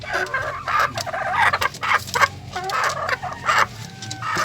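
Mother hens in a small backyard flock clucking in a busy, overlapping chorus, close by, with scattered squawks and a faint crow mixed in.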